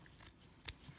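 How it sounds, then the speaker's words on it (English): Scissors snip straight down a length of fabric, giving two short, crisp cuts close to the microphone, the second louder and sharper than the first, with quiet pauses around them. "you're just going to cut straight down the fabric"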